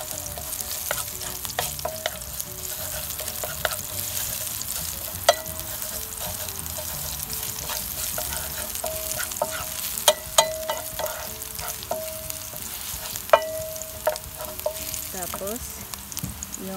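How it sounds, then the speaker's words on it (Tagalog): Dried tuyo fish frying in a pan, a steady close sizzle with scattered sharp pops and occasional utensil scrapes throughout. "Isote lang natin hanggang na mag"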